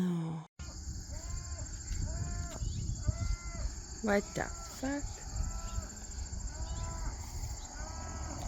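A cow moos repeatedly in a morning outdoor setting, several drawn-out lows spaced across the stretch over a constant backdrop of crickets, with a person speaking briefly partway through.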